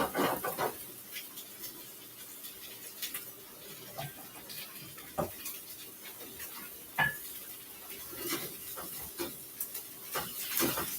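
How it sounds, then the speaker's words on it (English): A spoon scrapes and taps across the bottom of a pan of frying vegan tofu fried rice, with quiet intermittent scratches and clinks over a soft background sizzle. "I also think my spoon might be good because I kind of want to get the pan scraped on the bottom"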